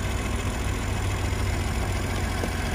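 A 2022 BMW X3 M40i's inline-six engine idles steadily and close by, a continuous low rumble with no talking over it.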